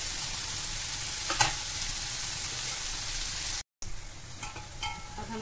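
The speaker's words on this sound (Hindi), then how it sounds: "इसे आलू पकने तक इसे भूनेंगे।" Potatoes and onions fry in a pan for poha, giving a steady close sizzle with a few sharper stirring scrapes, one brief dropout, then the hiss resumes.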